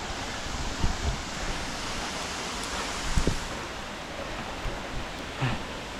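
Lover's Leap waterfall in Nuwara Eliya gives a steady, moderate broadband rush of falling water, with a few faint knocks and bumps breaking through.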